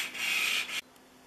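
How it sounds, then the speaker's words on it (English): A plane iron from a Stanley No. 148 match plane is lapped back and forth on a sanding stick. Close, steady abrasive rubbing lasts under a second and then stops abruptly. "Back and forth on your lapping station."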